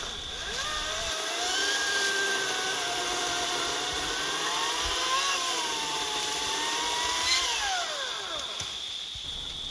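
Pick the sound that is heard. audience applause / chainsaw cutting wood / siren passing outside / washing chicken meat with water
chainsaw cutting wood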